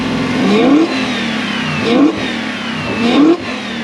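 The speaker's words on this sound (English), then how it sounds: "Give it a rev." A Toyota Celsior / Lexus LS400 engine on the diagnostic bench, blipped three times in a row, each rev climbing sharply and falling back to idle, loud and close.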